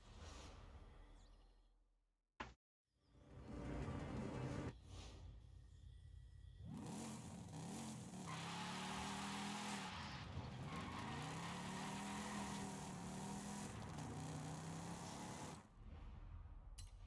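Ford Mercury Cyclone driving in the racing video game Forza Horizon 5, its engine droning and rising and falling in pitch through gear changes after a brief cut near the start, loud and steady with no talking.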